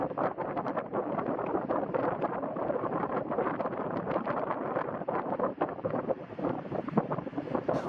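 A high-speed table fan runs steadily with a dense, breathy whoosh of moving air, constant and fairly close, with no voices.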